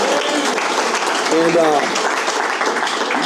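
A crowd applauds with steady, dense clapping throughout, while a voice briefly rises over it near the middle.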